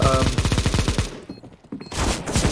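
Rapid, rhythmic bursts of Negev machine gun fire in a CS:GO match rattle loudly and steadily, pause briefly, then resume in a second sustained burst.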